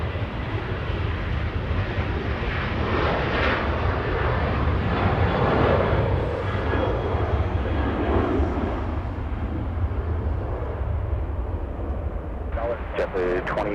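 A Delta Airlines Boeing 737 taking off at LAX produces a loud, sustained jet engine roar that swells and holds steadily, with a brief radio-like voice at the end.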